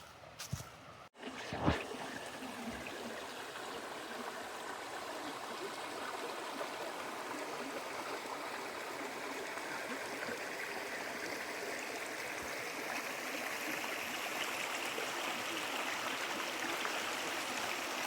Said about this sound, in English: Babbling brooks are always nice to hear.